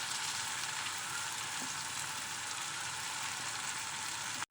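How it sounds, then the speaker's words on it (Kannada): Coriander fries in a pan of hot oil for chitranna, a steady close sizzling hiss that carries on evenly with no talk and stops abruptly at the very end. "ಈಗ ಇದಕ್ಕೆ ಕೊತ್ತಂಬರಿ ಹಾಕ್ಕೊಂಡು ಸ್ವಲ್ಪ ಫ್ರೈ ಮಾಡ್ಕೋಬೇಕು"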